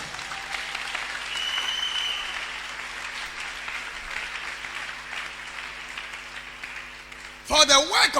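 Church congregation bursts into applause, a broad, steady wash of clapping that holds loud for most of the stretch, with a short burst of talk or cheering near the end.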